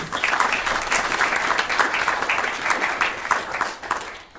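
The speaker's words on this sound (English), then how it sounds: "A round of applause for them, please" A crowd applauds steadily, a dense wash of many hands clapping at a constant level throughout.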